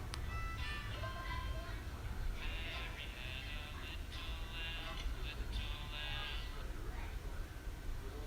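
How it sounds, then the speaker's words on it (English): A tinny, synthesized melody of the nursery rhyme Mary Had a Little Lamb plays continuously over a dense, noisy background, with the tune carried by bright high notes. "They have freaking Spider-Man hurling a flaming car at some innocent dude to the tune of Mary Had a Little Lamb."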